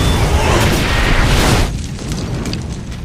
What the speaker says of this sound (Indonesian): satu persatu mobil mereka pun meledak